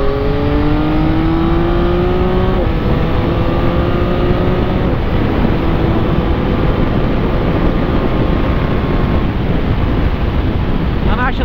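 A 2022 Yamaha XSR900 motorcycle engine accelerates through fourth gear, its rising tones climbing repeatedly under heavy wind rush, loud and close throughout.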